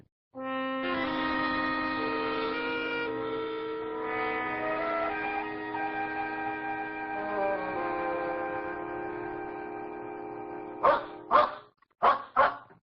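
A dog barks several times in quick, loud bursts near the end, following a long stretch of sustained tonal music that fills most of the scene.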